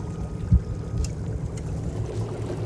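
A Suzuki 250SS Stealth outboard motor runs quietly at idle, its low steady hum nearly blending with water splashing against the hull, with one brief thump near the start.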